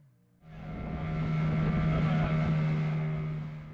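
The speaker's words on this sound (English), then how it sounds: "lots and lots of speedboats carrying tourists making rounds" A speedboat motor near Matemwe Island off Zanzibar rises into a steady, loud drone with a strong low hum, running close and continuous after a brief quieter start.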